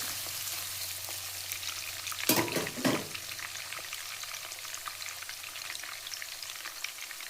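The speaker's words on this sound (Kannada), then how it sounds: "ಎಣ್ಣೆ ಕಾದಿದ ನಂತರ ಒಂದು ಕಟ್ ಮಾಡಿಕೊಂಡ್ರೆ ಈರುಳ್ಳಿ ಹಾಕ್ಕೊಳ್ಳಿ, ಹಾಕಿ ಫ್ರೈ ಮಾಡಿ." Onion fries in hot oil in a pan for masala rice uppittu, a steady crackling sizzle throughout with a couple of louder bursts of stirring near the middle, close and unaccompanied by talk.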